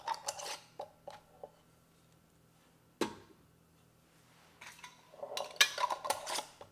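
Ceramic custard cups clink and knock as they are set into a Ninja Foodi basket, a few sharp taps early, one solid clack midway, then a cluster of rattling clinks near the end in a quiet kitchen.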